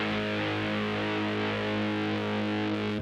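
A steady, thick fuzz-distorted electric guitar chord through a Seven Sisters Ruby fuzz and a Fux fuzz pedal rings out loud and sustained, buzzing with saturated harmonics and no break.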